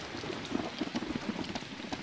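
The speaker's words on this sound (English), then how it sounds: "I love that it's raining right now." Rain falls in the Arma 2 DayZ survival game as a faint, steady patter of drops hitting surfaces, continuous and even throughout.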